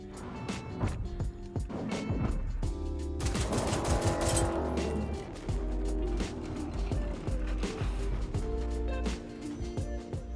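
The Moller gun in the video game Generation Zero fires at a tank in rapid bursts of sharp shots, with metallic impacts and mechanical clanks heard close and loud throughout.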